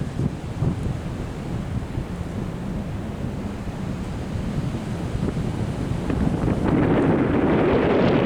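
Strong wind buffets the microphone in a steady low roar at an open-view campsite on the Old Loggers Path trail, growing louder and gustier toward the end.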